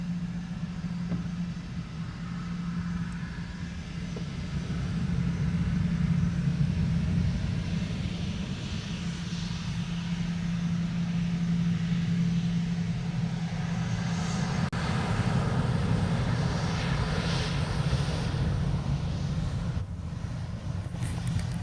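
Jet aircraft at Honolulu airport, a low steady engine rumble that swells over several seconds and then holds, heard from a distance amid general airport ambience, with no talking.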